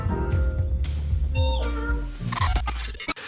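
A looped recording of a cat meowing, with repeated wavering meows sounding loud and close over a dense, continuous background of music-like tones.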